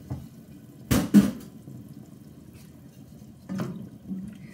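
Bone broth is poured into a soup pot over tender vegetables, a short splashy gush followed by a second brief pour, close and moderately loud against a quiet background.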